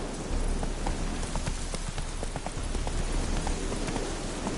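Hoofbeats of Roach, a horse galloping in a video game, a fast continuous patter of hooves running steadily throughout at moderate loudness.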